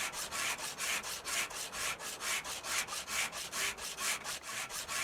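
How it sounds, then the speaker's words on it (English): Sanding a car body in Car Dealer Simulator, a steady back-and-forth rasping scrape repeating in an even rhythm about four strokes per second, close and alone. "I think you've still got to sand down."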